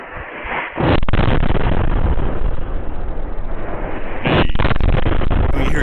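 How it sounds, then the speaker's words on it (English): Heavy missile-strike explosions in Lgov, a dense broadband rumble that swells abruptly near the start and surges again later, loud and sustained like ground-rattling blasts with no voices. "We hear two explosions."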